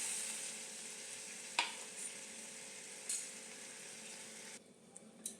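Boiled lentils poured into a pan of fried spice tempering for biulir dal, a soft steady sizzle and stirring with a few sharper splashes, close by and alone until the frying noise drops near the end.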